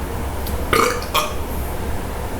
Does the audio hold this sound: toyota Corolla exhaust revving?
no